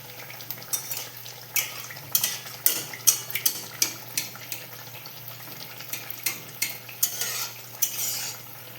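Malpua fries in hot oil in a pan with a steady sizzle, while a metal ladle scrapes and spoons oil in a run of regular close clinks and stirs as the pieces are turned.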